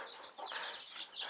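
Newly hatched guinea fowl keets, kept in a caravan, peep in a steady, overlapping chorus of high, thin chirps, fairly quiet and continuous with no talking.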